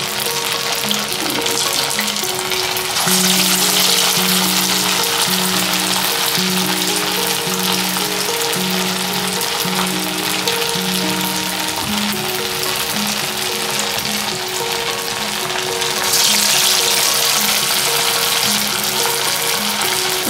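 Sweet corn vadas deep-fry in hot oil in a kadai, several at once, with a steady close bubbling sizzle that stays loud and even throughout, with no one talking.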